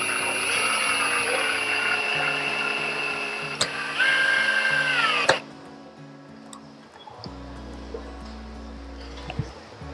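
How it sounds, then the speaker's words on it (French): Electric screwdriver driving screws into a wooden plank while building a wall-mounted message board shelf: a loud steady motor whine for several seconds with a pitch drop as the screw seats, then quieter handling noise with a low hum. "Je tiens bien, je fais une pression et je visse."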